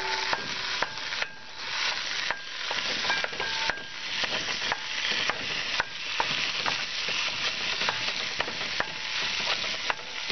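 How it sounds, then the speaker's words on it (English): Ground beef frying and being broken up in a pot for cabbage roll soup, a steady close sizzle with repeated scraping and stirring knocks from a utensil throughout. "drop in the hamburger. Start breaking it up."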